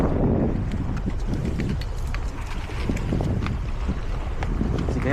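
Strong wind buffets the microphone on a rocky shore at Peng Chau during squid fishing, a steady loud low rumble that gusts throughout with no clear voices.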